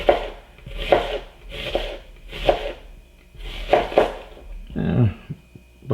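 A knife chops an onion in quick, rhythmic bursts of close, crisp strokes, about five clusters separated by short pauses, with a slightly heavier final cut.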